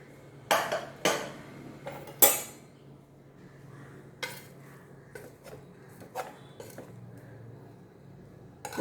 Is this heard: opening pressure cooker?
yes